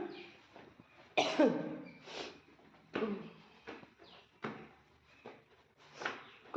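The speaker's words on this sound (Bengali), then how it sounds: "বাবা এত কাশি হয়েছে না" A person coughing indoors at home, roughly six harsh, separate coughs spaced a second or so apart, close and fairly loud with quiet gaps between.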